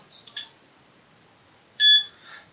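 Short electronic beeps from digital radio software on a desktop, a faint pair early on and a louder, longer tone near the end, with no talk.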